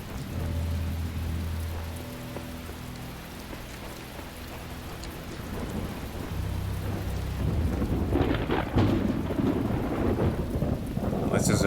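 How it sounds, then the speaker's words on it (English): Steady rain and rolling thunder fill an outdoor ambience in The Talos Principle puzzle game, a continuous wash of rainfall with low rumbles that swell louder toward the end. "Amazing what a bit of rain can do."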